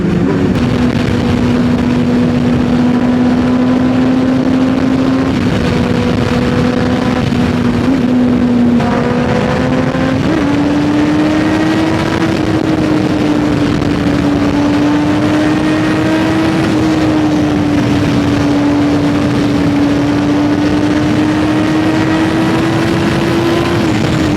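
A motorcycle engine drones steadily and loudly throughout a ride, its pitch rising and falling gently as the rider accelerates, with continuous wind rush underneath.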